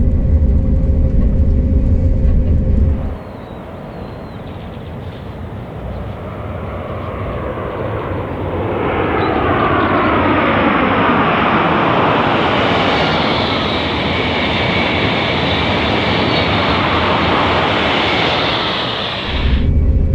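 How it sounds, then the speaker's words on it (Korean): A KTX high-speed train crosses the Nakdong viaduct over the Nakdong River after leaving Seokjeok Tunnel on the Gyeongbu high-speed line, a loud rushing roar that builds and holds for many seconds, close and sustained. "경부고속선 석적터널을 통과한 열차는 낙동강을 가로지르는 낙동고가를 통과합니다"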